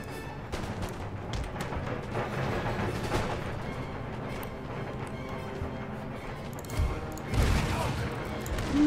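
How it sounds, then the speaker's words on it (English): Round shot fired by artillery in Empire: Total War, heard as scattered distant booms and volleys over ongoing battle noise. A heavier cluster of blasts comes near the end, and a voice talks briefly over the battle. "Keep firing round shot, you'll probably be safe from there."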